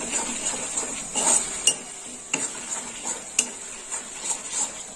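Coriander powder being stirred and sautéed in a pan while cooking mouri potol, with soft scraping and clinking of a spatula against metal over a faint, steady sizzle, no talk.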